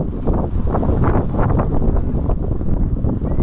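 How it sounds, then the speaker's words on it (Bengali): Wind buffets the microphone with a constant loud, low rumble and roaring gusts, with no other clear sounds above it. "বাতাস আর বাতাস"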